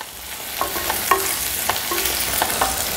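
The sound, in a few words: onion pieces frying with mustard seeds and urad dal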